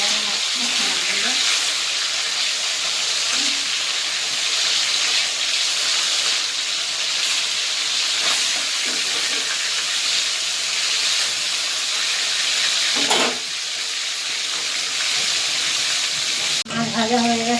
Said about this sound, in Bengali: উল্টে পাল্টে হালকা করে ভেজে নেবো মাছগুলো